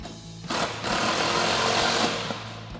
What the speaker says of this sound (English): Now we'll tighten up our two 15 millimeter nuts out front